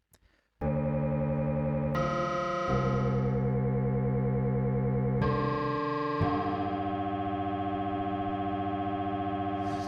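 A dense, sustained texture from Ableton's Granulator II granular synthesizer playing a sample, shimmering, distorted tones shifting abruptly in pitch and timbre several times, playing on its own without pauses.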